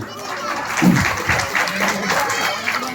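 Applause from a village stage-show audience, a crowd clapping across a few seconds, with a voice talking over the clapping.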